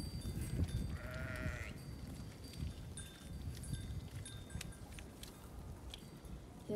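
A single bleat from a sheep in the distance, over steady wind noise and faint rustling.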